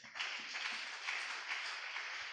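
A church congregation applauding during a sermon, a steady dense wash of many hands clapping at moderate volume, sustained evenly throughout with no voices over it.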